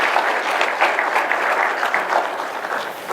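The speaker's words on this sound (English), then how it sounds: "Can we just hear a round of applause for him?" Audience applause at a government stimulus disbursement event, a dense burst of clapping from a crowd that carries on steadily throughout and eases a little toward the end.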